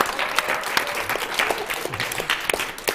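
A crowd applauding steadily at a university talk-show event, many hands clapping at once in a dense, even patter, fairly close and lively.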